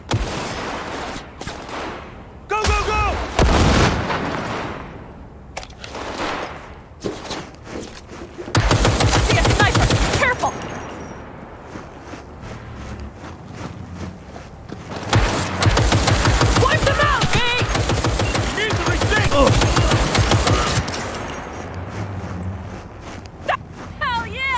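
Automatic gunfire fills the combat in Cyberpunk 2077, coming in loud bursts of rapid shots between quieter stretches. Game voices and movement sounds come in around the firing.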